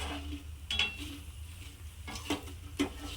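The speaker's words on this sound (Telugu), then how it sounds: "ఎండుమిరపకాయలు వేసుకోవాలి ఫ్రెండ్స్. అవి బాగా వేయించుకోవాలి ఫ్రెండ్స్" Dried red chillies frying in oil in a pan for a gongura chutney, with a few sharp metallic clinks of a spoon against the pan over a low, steady sizzle.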